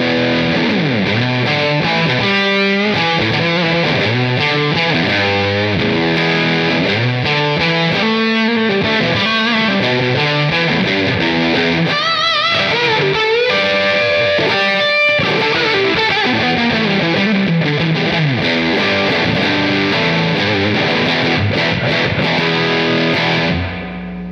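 Fender Jazzmaster electric guitar through fuzz distortion, thick saturated chords and riffs played continuously and loudly, with no voices over it.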